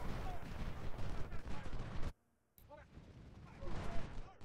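Gunfire and artillery from the Ultimate General: Civil War video game, at Gettysburg on Day 2 around Little Round Top, crackle in a dense continuous barrage that cuts out abruptly for a moment before resuming.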